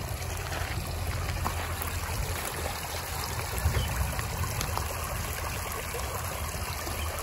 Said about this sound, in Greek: Έχει ρέμα εδώ, δείτε. Έρχεται από τις λίμνες, αλλά έχει και πηγή εδώ